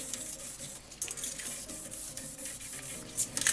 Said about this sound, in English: Double the scouring pad and run it up and down the spring.